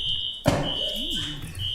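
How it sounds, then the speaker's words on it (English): A fire alarm sounding in a meeting room, a steady high electronic tone that drops out briefly and resumes, with a sharp thump and a voice speaking underneath. "Fire alarm."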